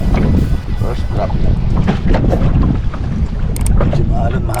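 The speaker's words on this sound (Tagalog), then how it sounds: "Medyo maalon, mahangin pa ngayon" Strong wind and choppy sea aboard a fishing boat during slow jigging, a loud constant roar of wind buffeting the microphone with sloshing water underneath, and a voice talking over it.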